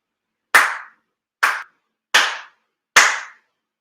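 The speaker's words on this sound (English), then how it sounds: "4 sincere claps along with the head officiant." Four sharp ritual hand claps at a Shinto monthly ceremony for Tenchi Kane no Kami, performed in unison with the head officiant, evenly spaced and crisp, each with a short decay, alone in a quiet hall.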